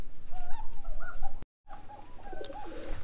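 Beauty pigeons coo softly in a farm loft in Rajshahi, with repeated low throaty calls and a few chirps, broken by a short dropout midway.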